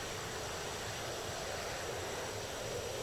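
A JF-17 Thunder jet flying in the DCS flight simulator gives off a steady, dense engine roar with no break or change, loud and continuous throughout.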